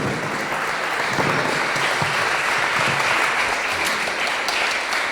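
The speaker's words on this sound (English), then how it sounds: "Let's give him a round of applause" An audience at a community climate event applauds Professor Rupert Read, steady sustained clapping lasting several seconds at an even level, without talk over it.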